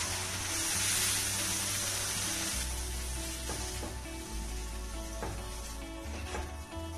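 Water poured into singhara (water chestnut) flour in a hot pan sets off a loud, continuous sizzle and hiss, with faint stirring scrapes and no voices.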